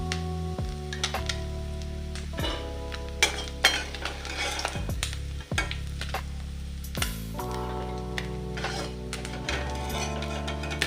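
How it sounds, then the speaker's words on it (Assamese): Small fish fry in oil in a wok, a steady sizzle overlaid with repeated scraping and clanks of a metal utensil against the pan, close and fairly loud. "সেইকাৰণে অকণমান টান কৰি ফ্ৰাই কৰিছোঁ"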